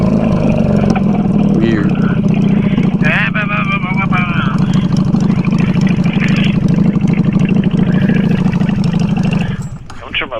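Honda Shadow Bobber motorcycle engine idling close by with a loud, steady low rumble throughout, voices talking over it, before the sound drops away at the very end.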